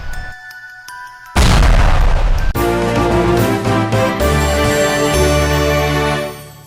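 A big gun firing in a video game, giving a sudden loud booming blast after a quieter opening, followed by several seconds of sustained, ringing explosion noise that fades out at the end.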